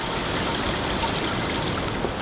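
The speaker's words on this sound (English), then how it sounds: "There's a little stream running through here. It's really subtle, but you can hear the water." Small stream trickling through a temple garden on Fukuurajima Island in Matsushima, a steady, even wash of running water with no voices.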